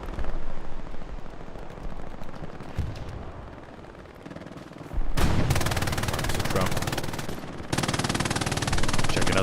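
Sustained machine gun fire in a D-Day World War II beach assault game, loud bursts of rapid shots with dense battlefield noise, quieter and muffled at first then erupting into heavy continuous firing.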